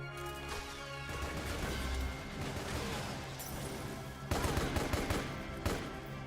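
AK rifle fire in Metal Gear Solid 4, played on a PC, comes as steady gunshots over dense battle noise throughout, with louder, closer bursts near the end.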